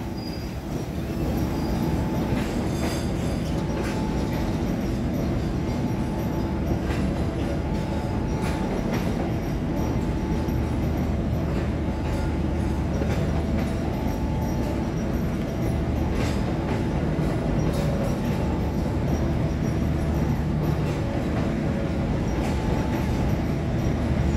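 An Indonesian economy-class passenger train, the Joglosemarkerto, rolls steadily along the rails with a constant loud rumble and faint rhythmic wheel clatter, no voices.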